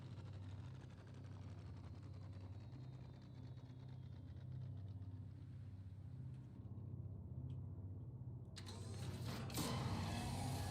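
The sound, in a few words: tank engines running in Star Citizen video game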